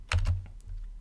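Quick keystrokes on a computer keyboard while entering a command for a Particle device connected by USB, a short burst of several close, crisp clicks followed by quieter taps, with no talking.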